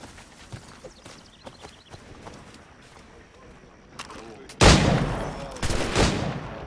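Gunfire in the video game Assassin's Creed 3, a subdued clatter of distant action giving way to loud, close volleys of musket shots in two heavy bursts near the end.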